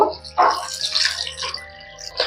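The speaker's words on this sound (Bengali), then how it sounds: "এবার জল দিয়ে ধুয়ে নেব।" Jackfruit seeds washed by hand in a large bowl of water, giving soft irregular splashes and sloshing bursts, close and moderately loud, with a faint steady hum beneath.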